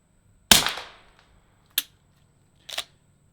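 Three suppressed 9mm shots from a PSA Dagger pistol, sharp close cracks spaced about a second apart, the first loudest with a short decaying tail, no talking.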